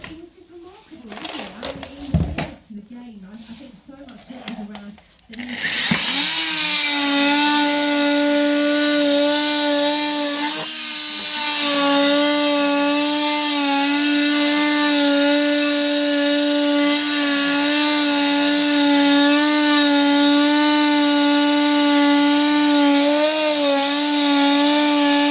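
A power tool blade cuts during a DIY fireplace build, droning loudly and steadily for about twenty seconds with a sustained buzzing tone that dips briefly midway, after a few seconds of knocking and talking.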